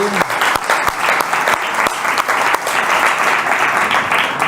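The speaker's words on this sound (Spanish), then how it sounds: "un aplauso para él" An audience at a talk on the El Rebellao archaeological project applauds Don Pedro Arias as he stands from the front row, a full, close round of clapping with a few sharp individual claps standing out, sustained to the end.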